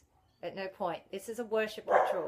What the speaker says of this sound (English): Excuse the dog barking. He's talking to another dog across the road.